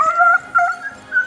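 Dogs give short yips and whimpering barks in three quick bursts with brief gaps between them. They are close and fairly loud, and no one speaks.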